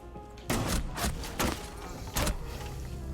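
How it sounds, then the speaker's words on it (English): Shotgun blasts in Rainbow Six Siege gameplay, four heavy booming shots at irregular intervals over a steady background din of the match, with no voices. "so I got owned by Nook's shotgun"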